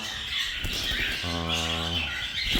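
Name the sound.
cockatiels squawking in an aviary flight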